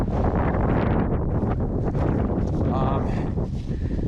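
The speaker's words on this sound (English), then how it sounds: "here comes the stupid wind" Strong wind gusts roar continuously across an outdoor microphone, loud and buffeting throughout, with faint rustling mixed in.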